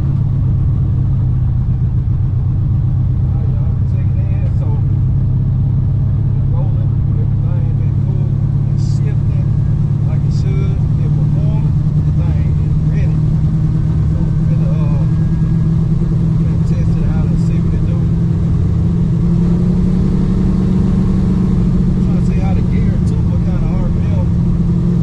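A car engine runs steadily with a new transmission fitted for testing, giving a continuous low rumble at close range that holds even throughout.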